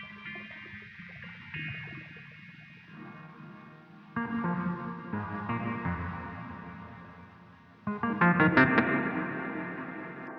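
Guitar tones pass through a Chase Bliss pedal's lo-fi inverse mode, sounding thin, warbling and distorted, with phrases growing louder and more smeared toward the end.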